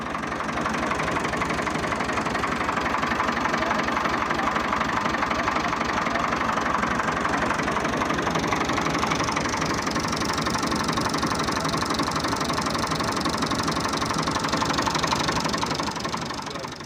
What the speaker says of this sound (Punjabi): ਅਸੀਂ ਤੁਹਾਨੂੰ ਆਵਾਜ਼ ਸੁਣਾਉਂਦੇ ਹਾਂ ਟਰੈਕਟਰ ਦੀ